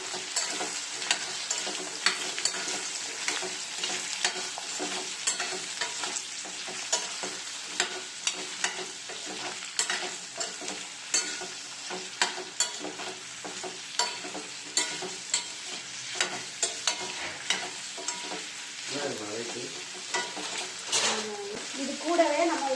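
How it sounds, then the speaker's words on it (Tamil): Gooseberry and onions sautéing in a pan: a continuous close sizzle with regular spatula taps and scrapes, and a brief voice speaking near the end. "எல்லாம் சேர்த்து நல்லா வதக்கிடுவோம்"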